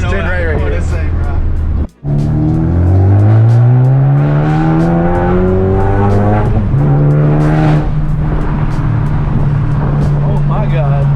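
A Ford Focus ST with a catless downpipe exhaust revs loudly, its engine note climbing in pitch through acceleration after a brief cut, then holding a steady drone; very near and loud, with people talking over it.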